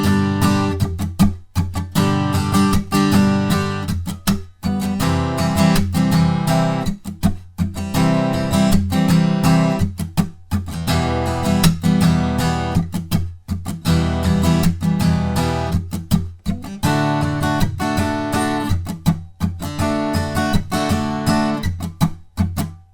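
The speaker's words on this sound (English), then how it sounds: "One handy tip when you're doing those muted strums at the end is that with your fretting hand, you just lightly rest your fingers over the top of all the strings" Acoustic guitar strummed in a steady rhythm with percussive muted strums, playing a chord pattern alone and up close for the whole stretch.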